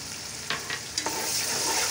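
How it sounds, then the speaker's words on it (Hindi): About twenty coarsely ground green chilies fry in hot oil with a close, bright sizzle, a few quick scraping stirs cutting through the steady hiss. "गर्म तेल से भुनाई करेंगे इसको।"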